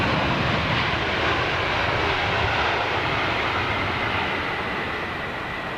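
A jet airliner on the runway produces a loud, steady, broadband engine roar that stays constant throughout, with no talking.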